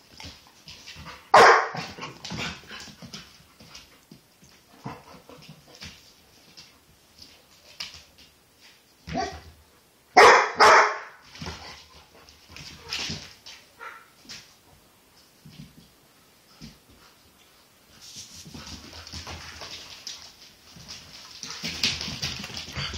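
A Brindle Basset hound bulldog mix barks in a few loud, sharp bursts separated by quieter stretches of shuffling and soft whimpering, nearby.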